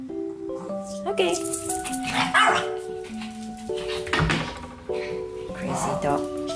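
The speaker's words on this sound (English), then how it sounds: "Crazy dog." A dog barks and yips amid a busy home scene, with people talking and a tonal electronic melody playing over the top.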